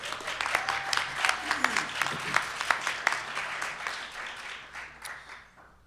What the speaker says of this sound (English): So I would like to ask for a round of applause for her work.